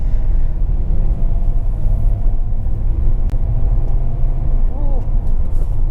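A top-trim Daihatsu Xenia with a CVT gearbox pulls away on a quiet city road around Araya, Malang, its heavy, continuous road and engine rumble rising under people talking inside the cabin.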